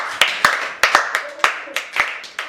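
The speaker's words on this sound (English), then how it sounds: "Please clap for her." A small group of students claps for a classmate in a chemistry class, with sharp, slightly uneven hand claps in quick succession, close and fairly loud.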